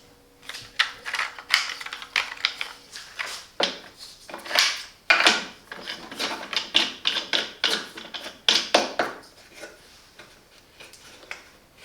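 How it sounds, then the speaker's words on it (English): Plastic clamp with jaws clicks and ratchets onto a tripod for a Parkside PKLL 7 F5 cross line laser level, a close series of irregular mechanical snaps and clacks with short pauses. "Let's install this clamp with jaws."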